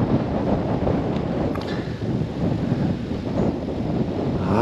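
Strong wind buffets the microphone of a touring bicycle riding along a dike in the Basque Country, producing a loud, continuous rumbling roar with gusty swells and no speech.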